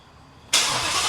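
A car engine fitted with a classic muffler and no tailpipes cranks and fires up abruptly after a moment of quiet, settling into a loud, steady rumble close by.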